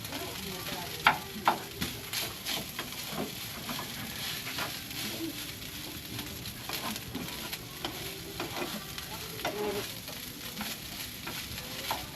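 Garlic fried rice stir-frying in a pan, with a steady close sizzle and scattered spatula scrapes and taps running throughout, fairly soft, with faint background noise.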